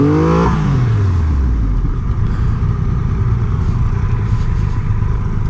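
A 2020 Triumph Rocket 3 motorcycle engine blips loudly, then drops and sits bouncing against the rev limiter with a rough, stuttering drone, heard up close.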